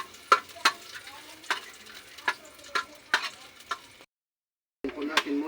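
Onion and garlic being stirred in a pan for chicken tinola over a wood fire, with spatula scrapes recurring at a steady rhythm over a soft sizzle, then a brief silence before clattering resumes.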